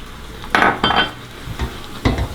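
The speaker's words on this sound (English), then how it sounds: "And then keep stirring it till it's all nice and smooth" Stock being stirred into browned flour in a pot for a brown chicken stew: a few short, close bursts of spoon scraping and clinking against the pot over a faint sizzle.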